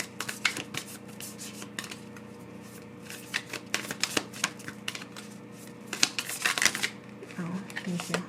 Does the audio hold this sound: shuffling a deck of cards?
yes